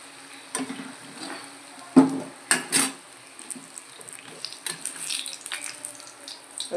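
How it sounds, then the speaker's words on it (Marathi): Ridge gourd bhaji fritters frying in oil, a soft steady sizzle beneath clinks and scrapes of a utensil against the pan, with a few sharper knocks of metal on metal. "ते लाल होईपर्यंत तळायचं आपण त्याला."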